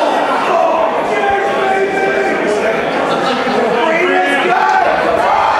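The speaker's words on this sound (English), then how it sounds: "Not to mention the raucous Brantford crowd here in attendance." A raucous crowd at a professional wrestling show in Brantford roars and shouts continuously, a loud wash of cheering voices filling the arena.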